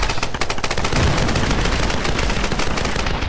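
Loud, rapid gunfire from a weapon in the video game Tomb Raider, a continuous rattling burst of shots lasting the whole moment with no voices over it.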